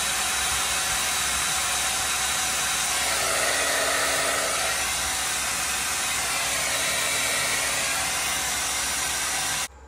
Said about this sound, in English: I'm gonna blow some hot air right where that bimetallic switches, see if I can get it to shut down